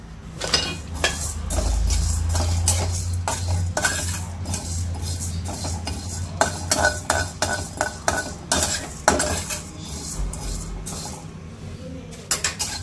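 Toor dal dry-roasting in a pan over low heat, stirred continuously, giving repeated close scraping and clinking of the utensil against the pan alongside a low rumbling hum, without talk.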